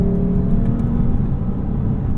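A 2015 Lexus GS350 F Sport V6 engine hums with a steady low rumble and slight revving, continuous and fairly loud throughout.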